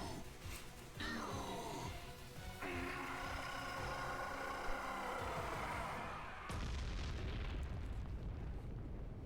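Deep, rumbling booms and roaring blasts from Sonic X Shadow Generations, one after another, with a sharp burst partway through, loud and continuous.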